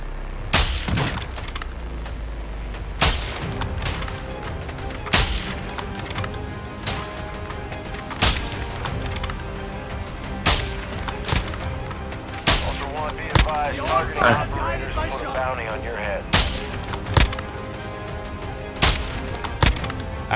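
Gunfire in the video game Call of Duty DMZ, rapid repeated sharp shots and bursts spread through the whole stretch, loud and close, with a player talking between and over them.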